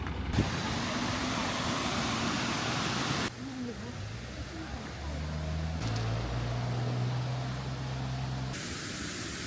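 A tiny bus drives along a quiet street near a temple in Kyoto, its broad roaring engine and tyre noise loud and close, easing off partway through and then rising again, with someone talking over it.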